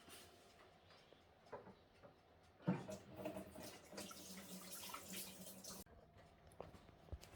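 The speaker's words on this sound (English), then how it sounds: "Gotta wash my hands now." Tap water runs into a sink while hands are washed in a kitchen during pork curry prep, a faint rush that swells for a few seconds and then stops.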